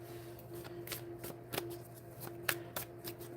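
Deck of playing cards being shuffled by hand: a series of short crisp riffling snaps and taps at irregular intervals, close and quiet, with no talk.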